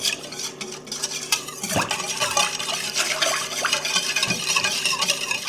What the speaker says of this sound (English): I'm going to go ahead and mix that up. Get it off the sides.